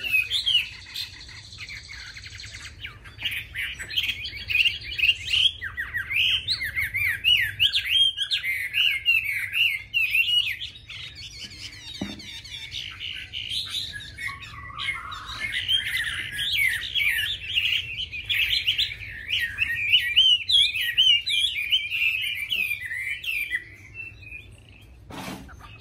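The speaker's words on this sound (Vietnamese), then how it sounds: "Các bạn đang nghe tiếng hót chim họa mi trên kênh Chim Cảnh Đất Việt." Chinese hwamei songbird delivering long, rapid, varied whistling phrases with brief pauses, loud and close, over a faint low background hum, no talking.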